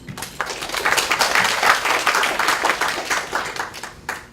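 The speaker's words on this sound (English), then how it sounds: "So I think we can all give them a round of applause." Audience at a conference panel applauds Asian groups, with brisk, even hand-clapping from a moderately sized crowd that holds steady for several seconds before tapering off.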